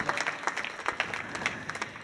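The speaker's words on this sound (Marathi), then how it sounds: "एकदा टाळ्या वाजवूया आपण." An audience at a devotional Shiv kirtan applauding, a steady patter of many hands clapping at moderate volume.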